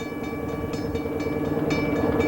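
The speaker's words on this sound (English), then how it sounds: "the Alaska Railroad is exciting and viable transportation within this largest of states" Alaska Railroad train rolling along, a steady rumbling roar with faint rhythmic wheel clacks and a sustained tonal ring above, fairly loud and continuous with no voices.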